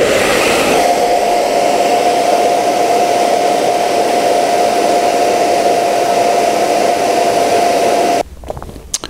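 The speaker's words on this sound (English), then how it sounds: "after a couple of minutes of using the hairdryer, the repair will be touch dry" Loud, steady blowing roar of a hair dryer held above a repair on a leather bag, with a faint whine, running continuously before cutting off abruptly near the end.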